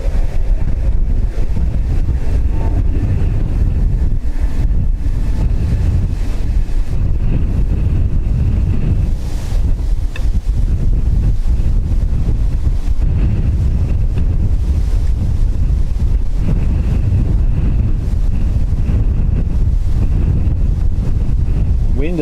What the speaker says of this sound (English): Wind has definitely picked up anyway.